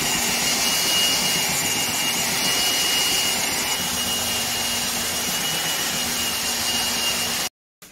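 A belt sander works across a wooden dining table top, an upcycled IKEA Ingatorp extendable table, giving a loud, steady abrasive whine and rumble that runs without a break for about seven seconds, then stops abruptly.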